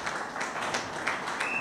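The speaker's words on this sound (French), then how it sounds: "Maître Blanchard Mongomba, sous, bien entendu, les applaudissements de militantes et militants du parti." Party supporters applaud at a political rally, a steady wash of many hands clapping at moderate distance, continuous throughout.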